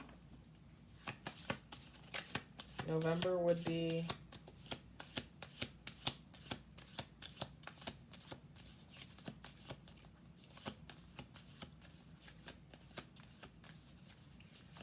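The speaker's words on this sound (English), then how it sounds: "We'll do one more shuffle." Tarot cards shuffled by hand in a continuous run of crisp, rapid riffles, with a low voice speaking briefly and a soft riffle of cards continuing through the rest.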